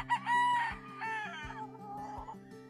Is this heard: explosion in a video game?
no